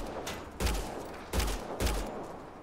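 Gunfire in Mass Effect: Andromeda, three heavy booming shots spaced under a second apart, loud and close, each with a brief rumbling tail.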